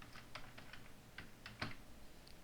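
Scattered, light keystrokes tap on a computer keyboard at an uneven pace, close but quiet.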